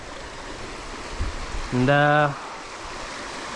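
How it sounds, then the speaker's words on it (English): Steady broadband rush of running water in a small, quick-moving stream with heavy flow, continuous throughout, while someone speaks briefly over it. "it's running water over here"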